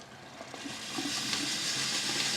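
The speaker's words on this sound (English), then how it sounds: "the flow is more energetic coming out of the spout" Boiling water rushes steadily from a QETTLE boiling water tap spout with a bright hissing, splashing flow that grows slightly louder and stays continuous.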